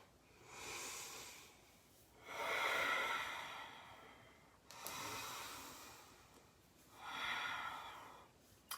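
Slow, deep yoga breathing during a vinyasa session, four long airy breaths alternating inhale and exhale, close and steady with pauses between.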